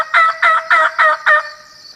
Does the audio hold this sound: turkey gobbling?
yes